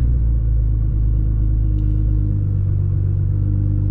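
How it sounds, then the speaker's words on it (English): A Nissan GT-R engine running in first gear, a loud, steady low rumble heard from inside the car with no change in pitch. "This thing is rough in first gear, man."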